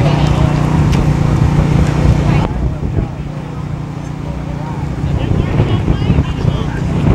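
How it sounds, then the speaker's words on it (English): Strong wind roars and buffets the microphone throughout at an outdoor cattle show, with faint voices murmuring underneath. "Windy day here, but it is a pretty day."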